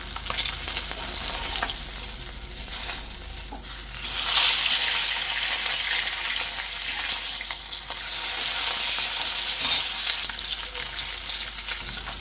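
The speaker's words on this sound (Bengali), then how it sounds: "মাছগুলো আমার ভাজা হয়ে গেছে, এবারে তুলে নেব" Fish pieces frying in hot oil in a home kitchen, a steady close sizzle with bursts of louder spitting as the pieces are stirred and turned.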